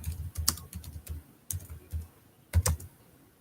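Fingers type on a computer keyboard, producing an irregular, close clatter of key taps in quick bursts with brief pauses between.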